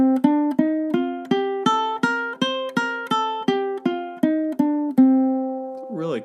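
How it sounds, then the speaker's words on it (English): Plucked ukulele notes of a C Dorian scale climbing and then descending one at a time, in an even rhythm, ending on a longer ringing note. "So a C Dorian scale sounds something like this."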